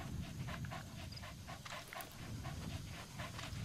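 D-Dog, the dog companion in Metal Gear Solid V: The Phantom Pain, pants steadily in fast rhythmic breaths over in-game background ambience, close and fairly loud throughout.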